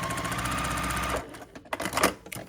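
A home sewing machine stitches across a quilt block, running in a steady close whir for just over a second before stopping, followed by a few quieter handling clicks and rustles.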